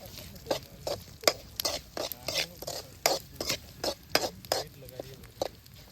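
A ladle stirs mutton gravy in a pot, scraping and clinking in an irregular series of sharp, close taps over a soft sizzle, with no talking.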